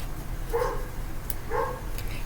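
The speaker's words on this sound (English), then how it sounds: "I can't believe this dog will not shut up." A dog barks twice, about a second apart, at moderate distance over a steady indoor background hum; no one speaks.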